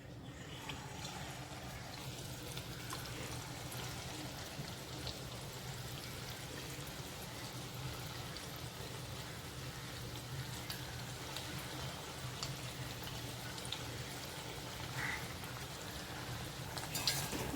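Potato sticks for crispy homemade French fries drop into hot oil, giving a soft, steady, even sizzle and bubbling hiss that runs unbroken throughout, with no talking.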